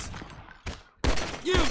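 Pistol and gun shots in a GTA 5 zombie mod, several sharp bursts with a quiet gap before a loud, dense volley near the end; no talk.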